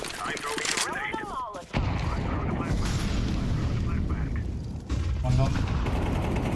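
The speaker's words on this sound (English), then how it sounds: "I'm throwing a grenade." A grenade thrown and exploding in Counter-Strike 2, with two loud booming blasts amid gunfire and general game noise while a player talks over it.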